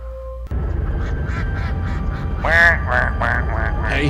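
A cartoon-style duck quacks several times in a rapid run of nasal, honking calls, loud and close, following a brief electronic tone.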